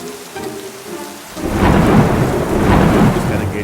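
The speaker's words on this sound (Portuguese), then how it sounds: "Então, eu desliguei as luzes e comecei a despejar bastante água." Water poured heavily over a beach terrarium with hermit crabs to simulate a rainstorm in the dark: after a quiet start, a loud, steady rushing and pattering of water swells in, close and sustained, with no talking.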